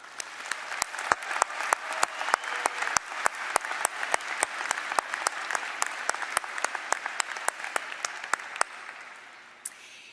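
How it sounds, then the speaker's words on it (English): Applause from a commencement audience honoring faculty, heard as a sustained wash of many hands with sharp, regular louder claps standing out near the microphone, fading at the end. "Please join me in giving these exemplary faculty a round of applause."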